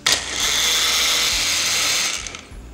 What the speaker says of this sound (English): Blend it just like we did with the other part.